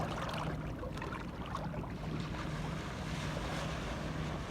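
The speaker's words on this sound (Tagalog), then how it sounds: "medyo malakas yung alon yan." Sea waves slosh steadily around a small fishing boat out on open water, with constant wind buffeting the microphone throughout and no voices.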